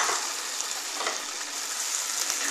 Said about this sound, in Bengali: এবারে আমি ডালটা দিয়ে দিচ্ছি, দরকার ডালটা সিদ্ধ করে গেছিলাম সেটা দিয়ে দিলাম